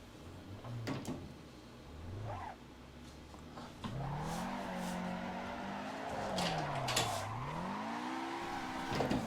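A racing car driving downhill in a sim racing game, its engine whining and shifting pitch in long rising and falling sweeps, with a few knocks and a constant background hum.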